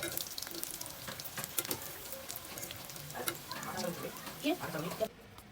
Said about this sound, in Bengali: সেজন্য আগে সুজিগুলো ভেজে নিব